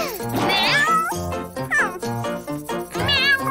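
Cartoon kitten meows several times in a row, bright and high-pitched, with light jingling music playing underneath.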